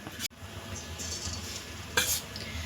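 Bhaji fritters fry in hot oil in a kadhai, a faint steady sizzle with a few utensil scrapes and clinks near the start and a brighter spit of sizzling near the end.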